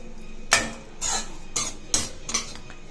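A spoon stirs ground pepper and cumin into cooked rice, giving about five distinct close metallic scrapes and clinks against the pot, with no talk.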